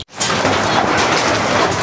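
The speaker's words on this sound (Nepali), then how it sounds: "पानी पर्न लाग्यो" Rain beginning to fall in a village, a steady broadband patter that starts abruptly after a brief silence and continues evenly and fairly loud throughout.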